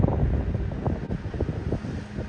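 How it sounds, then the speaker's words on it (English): Strong wind on a Lake Michigan beach buffets the microphone in a steady, loud rumble, with gusts rising and falling throughout and no voices. "It's been windy."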